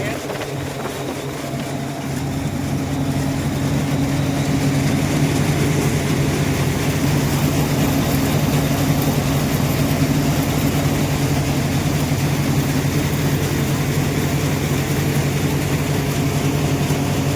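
A thresher runs on a farm, separating green fodder from peanut (groundnut) plants, with a steady loud mechanical drone and low engine hum that swells in after a brief quieter start and then holds constant throughout.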